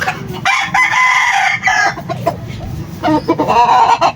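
Hens and a rooster at a gamefowl farm, a round-headed hen among them, cluck nearby in bursts while a crow rings out, all over a steady backdrop of farmyard noise.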